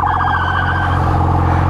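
A police car siren wails loudly over a rumbling engine, its warbling tone steady and close, as the car passes right alongside.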